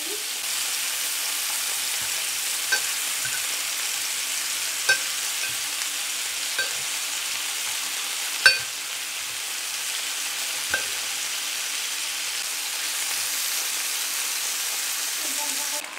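Minced-meat meatballs browning in a hot frying pan for a Tunisian ojja give a steady, close, loud hiss of sizzling fat, broken by occasional soft clicks and taps as they are turned.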